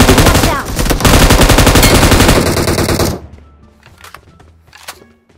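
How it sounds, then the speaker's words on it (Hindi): Rapid machine gun fire from a battle royale video game, a dense sustained burst for about three seconds that cuts off abruptly, followed by a few sparse, fainter shots and clicks. "हाथ में मशीन गन है"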